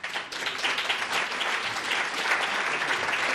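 An audience at a gastronomy and health conference welcomes a chocolatier with a full round of applause, dense and sustained at medium distance from start to finish.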